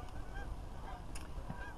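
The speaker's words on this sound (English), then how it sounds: "Every time you throw some boilies in, there's loads of seagulls here" Noisy honking bird calls over a French fishing lake where seagulls dive for thrown boilies, repeated squawks from several birds near and far against outdoor ambience.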